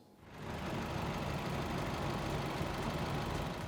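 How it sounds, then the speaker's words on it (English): A massive tractor engine idles outdoors in the sunshine, a steady, fairly close low rumble that swells in at the start and then holds evenly, with no talking. "Look at the size of that tractor, it's massive."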